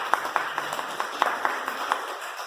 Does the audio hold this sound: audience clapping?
yes